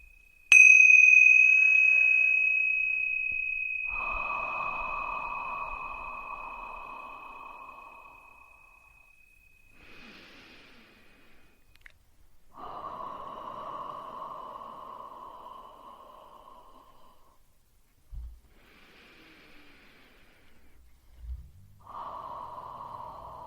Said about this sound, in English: I'm going to have you just take 3 nice deep breaths with me